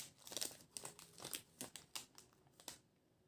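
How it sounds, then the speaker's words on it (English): A chocolate wrapper is crinkled and torn open in a series of close, sharp rustling bursts and crackles, irregular and fairly quiet, with no voice over them. "Excuse the crinkling, I'm opening my chocolate."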